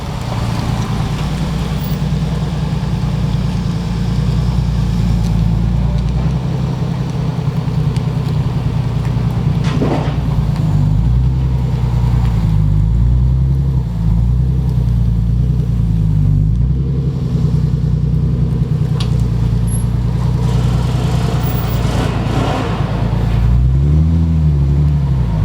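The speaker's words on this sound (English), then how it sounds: "you'll have to excuse my landscaper with the blower back there going crazy" A landscaper's leaf blower drones steadily in the background, a loud continuous engine rumble whose pitch wavers and surges now and then throughout.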